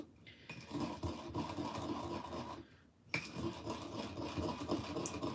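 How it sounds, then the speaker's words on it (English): Spices are ground by hand, producing a steady close rasping, scraping rub that pauses briefly near the end before resuming. "Probably take one more minute of grinding"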